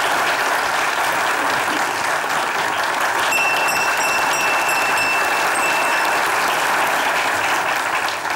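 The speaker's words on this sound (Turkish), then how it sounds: "Alkışlarınız efendim." A television studio audience bursts into sustained, loud applause, a steady dense clapping that fills the whole stretch without letup.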